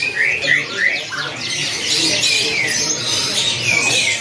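Small female red siskin calling with repeated high, rising chirps and squeaky trills, close and fairly loud against a faint background at a bird market.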